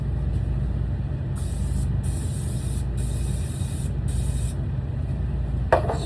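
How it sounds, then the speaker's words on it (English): Cooking oil sprays onto the bottom of lemon blackberry scones in several short hissing bursts, close and crisp, over a steady low background hum. "spray the bottom of that."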